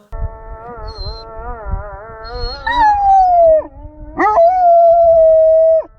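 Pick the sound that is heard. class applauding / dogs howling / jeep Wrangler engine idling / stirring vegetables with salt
dogs howling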